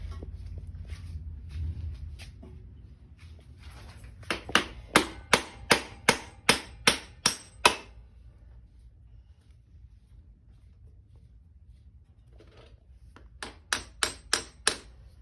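A nut is driven out of a 1983 Honda Shadow 750 wheel with a makeshift striking tool: a quick run of about eight evenly spaced, ringing metal hits, a quiet pause, then another burst of about six.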